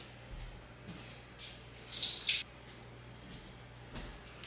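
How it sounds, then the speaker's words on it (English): Tap water splashes briefly into a sink during hand washing in a farmhouse kitchen, a short faint burst of running water against a quiet room with small drips and hiss around it. "Wash my hands."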